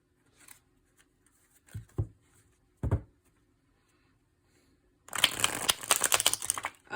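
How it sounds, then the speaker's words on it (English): A few soft papery riffles and taps, then a dense burst of rapid flicking as a new deck of tarot cards is shuffled close up. "They shuffle really nice."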